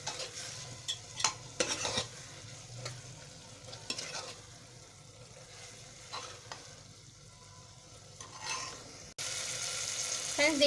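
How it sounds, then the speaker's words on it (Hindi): Bottle gourd with spices stir-fried uncovered on high flame, a utensil scraping and stirring in quick irregular bursts over a steady low sizzle, close and fairly quiet, with no talk. "तो हम इसे बिना ढके हुए ही हाई फ्लेम पे कंटिन्यूसली चलाते हुए"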